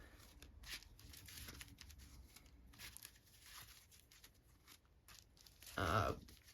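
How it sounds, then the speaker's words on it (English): A trading card game deck being power shuffled by hand, a soft ongoing riffle of cards with a louder crisp burst near the end, close and fairly quiet. "I'll power shuffle this up real quick here for you guys live"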